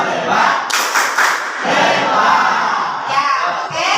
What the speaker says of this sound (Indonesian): Kita beri tepuk hebat untuk kalian.